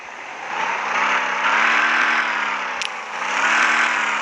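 A BMW M4 engine idling in the video game Car Simulator 2 holds a smooth, even drone with a steady hum and slight swells in level throughout. No one speaks.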